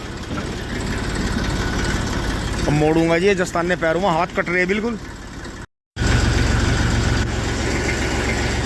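A small Massey 35 tractor engine runs with a steady, loud, low diesel drone on a cold day, while someone speaks over it in the middle. The sound cuts out briefly, then the engine continues.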